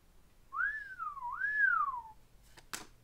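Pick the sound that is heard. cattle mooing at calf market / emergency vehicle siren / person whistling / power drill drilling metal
person whistling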